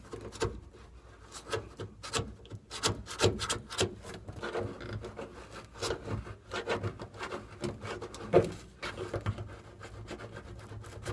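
Glue or seam sealer is scraped off the cargo area of a 1966 Dodge Charger, giving close, irregular scratchy strokes and rubs, fairly quiet, with no talking.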